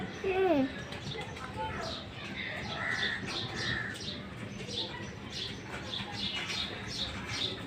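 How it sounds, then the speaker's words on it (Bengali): Sparrow chick chirps and squeaky calls repeat through the clip over a steady background, with faint indoor noise underneath. "এই পাখিটা এত পরিমাণে আর কি ডাকাডাকি করে"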